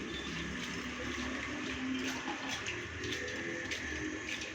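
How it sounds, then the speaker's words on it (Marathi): Poha (flattened rice) being rinsed in water in the kitchen, with a continuous close sloshing and pouring sound, small splashes and dripping throughout, and no talking. "पोहे व्यवस्थित असे धुवून घ्यायचे आपले मस्त 2 पाण्याने."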